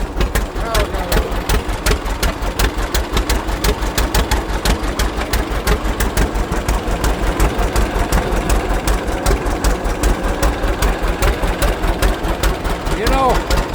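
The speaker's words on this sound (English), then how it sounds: "the D is about the only tractor, about the only John Deere that I think sounds better with a straight pipe than it does with a muffler" A John Deere D tractor with a straight pipe runs steadily outdoors at a spring tractor show, its loud, rapid exhaust popping in an even rhythm throughout.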